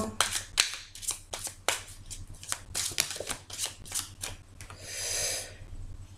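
Tarot cards are shuffled and handled in a series of quick crisp riffles and flicks, close and fairly quiet, ending with a softer sliding rustle as a card is drawn.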